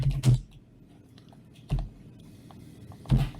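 Keys clacking on a computer keyboard while a name is entered into a text box in vMix streaming software; three short bursts of keystrokes, close and moderately loud, with quiet gaps between.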